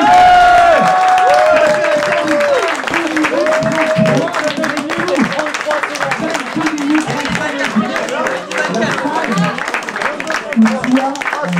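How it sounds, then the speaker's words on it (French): Applause and some cheering from a crowd at a live Portal speedrun event in a café run underneath an excited voice talking loudly over it throughout. "C'est terminé, on peut applaudir!"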